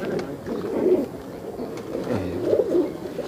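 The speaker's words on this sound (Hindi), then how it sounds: "ये देखो दोस्तों ये है एक पहला कबूतर जो लॉट में" Allahabadi pigeons, a mixed lot of males and females, coo in low soft bursts close by, with two or three throaty phrases amid faint background noise.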